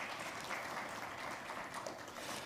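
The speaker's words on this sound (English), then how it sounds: "Please give him a round of applause, ladies and gentlemen." Audience applause for a panelist at a banking and fintech conference, a dense, steady wash of many hands clapping at moderate volume throughout, with no voices standing out.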